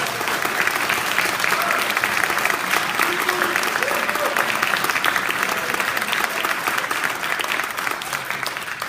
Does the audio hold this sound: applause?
yes